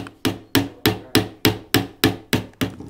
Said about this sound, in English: I'm going to take this out with a chisel.